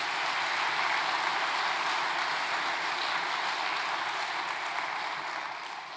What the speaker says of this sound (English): let's give the ceremony staff a big round of applause for their hard work and their enthusiasm